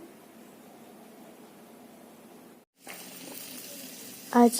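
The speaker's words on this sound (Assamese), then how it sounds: "ইয়াত পনীৰ ফ্ৰাই কৰি আছো এতিয়া" Paneer frying in a pan gives a soft, steady hiss and sizzle, broken by a brief silent gap, then returns slightly brighter, with a short louder clatter at the end.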